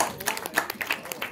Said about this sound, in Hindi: आप सब के लिए पहले तो ज़ोरदार तालियां।